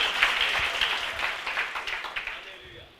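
A church congregation at a late-night Bible study claps together, a moderately loud crowd of hands that thins out and fades toward the end, with some voices mixed in.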